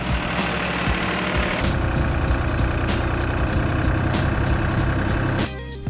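A tractor engine runs loud and close at a rough, steady idle while hauling timber, with sharp ticking knocks on top, before the noise drops away near the end.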